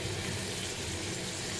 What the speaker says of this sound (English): So you want the sizzling noise all the time?